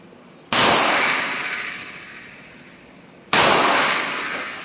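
A Rock Island 1911 A1 GI pistol in .45 with a 5-inch barrel and a steel frame fires two loud, sharp shots about three seconds apart. Each crack is followed by a long, fading ring of echo.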